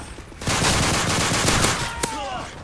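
Shotgun fire in Modern Warfare 3 co-op survival on an underground map: a loud, dense burst of rapid overlapping blasts lasting about two seconds, then a sharp crack near the end before fading.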